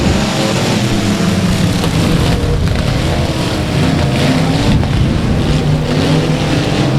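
Race cars roaring off the start at a South Texas speedway, a dense, loud wall of engines revving continuously with no pauses.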